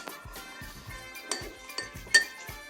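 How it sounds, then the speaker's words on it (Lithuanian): A spoon clinks against a dish while sugar and salt are stirred into a seasoning for sushi rice. The taps come in a quick, irregular rhythm, close and fairly crisp, with no talk. "Viską išmaišote"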